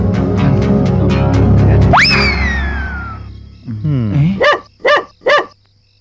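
Dogs bark in a film comedy scene, a few sharp, close barks bursting out near the end after a rhythmic patter and a rising swooping effect.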